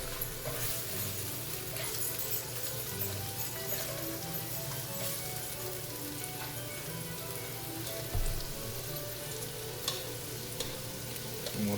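Frozen peas and carrots frying in a pan for fried rice give a steady, dense sizzle with faint stirring scrapes, close and continuous throughout, with no voices.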